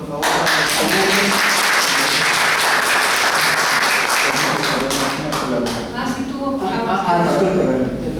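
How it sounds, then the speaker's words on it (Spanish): A conference audience at a university lecture series applauds the speakers with a strong, sustained round of dense clapping, loud and continuous with a brief dip before picking up again. "Pues yo pido un fuerte aplauso, por favor, para los ponentes."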